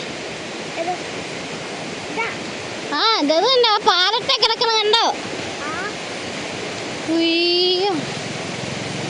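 Rushing stream water roars steadily throughout, while voices talk over it for a few seconds and a short electronic tone sounds near the end.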